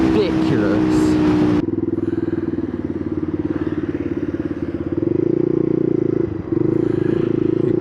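A Rieju RS3 motorcycle accelerates hard in fifth gear with a loud, steady, buzzing engine drone from the rider's position, under wind roar and with a brief dip near the end.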